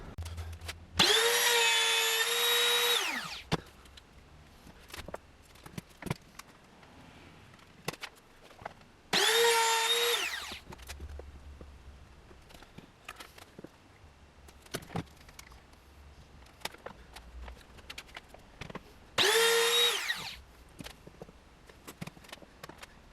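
An electric router cuts a truss rod channel into a wooden guitar neck in three loud bursts of high whining spin-up and cutting, each a few seconds long, separated by quiet gaps.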